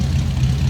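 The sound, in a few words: 1948 Ford Super Deluxe flathead engine running through dual exhaust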